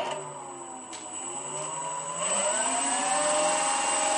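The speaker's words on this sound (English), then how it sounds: "And we'll do a little throttle test here." Electric motor and large propeller of an RC P-51 Mustang model plane whine up during a ground throttle test, a steady rising tonal hum that climbs in pitch and grows louder, close by.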